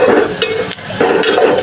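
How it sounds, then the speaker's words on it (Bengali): Cinnamon, cardamom and bay leaf fry in hot oil, giving a steady close sizzle with soft stirring scrapes over a short stretch and one brief dip. "দারচিনি, এলাচ আর তেজপাতা দিয়ে এখন এটাকে একটু ভেজে নিচ্ছি।"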